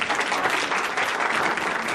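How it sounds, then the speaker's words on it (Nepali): An audience bursts into steady, dense applause to welcome a guest at a film review event in Sydney, Australia; the clapping is even, continuous and close, with no talk over it. "कृपया ताली बजाइदिनु होला।"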